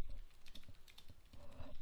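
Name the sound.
typing on a computer keyboard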